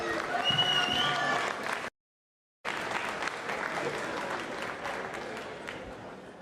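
Audience applause at a boxing press conference, a steady moderate wash of clapping and crowd noise that drops out for a moment of total silence, then resumes and continues evenly.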